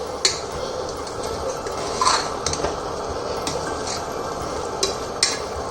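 Spoon stirring 200 grams of mushrooms in a pan for mushroom biryani, with steady scraping and clinks against the metal, a few sharper taps, and a soft sizzle running underneath throughout.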